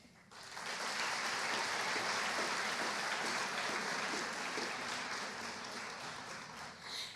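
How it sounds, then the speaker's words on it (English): An audience at a 4-H state awards ceremony claps and applauds steadily for several seconds, a dense continuous wash of clapping that swells early and gradually tapers off, with no speech over it. "Let's give them all another round of applause."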